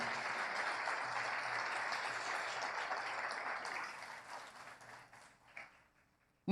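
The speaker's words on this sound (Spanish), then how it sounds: "¿No le quiere dar un aplauso al Señor?" A church congregation applauds, steady clapping that holds for a few seconds and then fades out, moderately faint.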